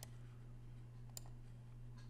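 A single faint computer mouse click, used to press OK in Planswift estimating software, sounds near the middle over a steady low electrical hum.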